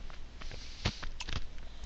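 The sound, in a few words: chewing ice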